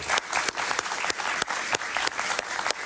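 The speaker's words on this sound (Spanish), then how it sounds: "Un aplauso para él, por favor." Studio audience on a talk show applauds guest Emanuel Rincón, a steady close burst of clapping with a few sharper claps standing out, no voices over it.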